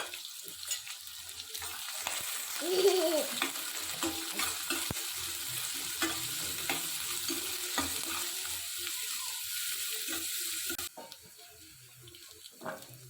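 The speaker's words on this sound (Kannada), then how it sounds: "ಈರುಳ್ಳಿನ ಚೆನ್ನಾಗಿ ಬಾಡೋವರೆಗೂ ನಾವು ಇದನ್ನು ಫ್ರೈ ಮಾಡ್ಕೋಬೇಕಾಗತ್ತೆ" Onions fry with cumin in hot oil for a drumstick-leaf sambar, a soft sizzle broken by scraping stirs and clinks of a spoon against the pan, which quiets sharply near the end with no talking.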